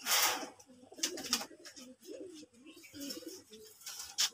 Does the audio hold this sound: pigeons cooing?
yes